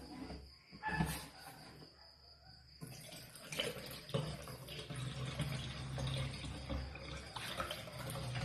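Mung beans are washed in a sink under a running tap, faint splashing and trickling water with a few louder knocks and rattles, quiet and close.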